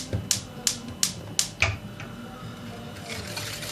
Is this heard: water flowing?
no